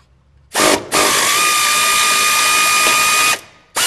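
Mechanical ratcheting on an extension as a steering column bolt is loosened on a 1976 Ford Bronco during a tilt column install, loud and close, a short burst then a long steady run that stops abruptly.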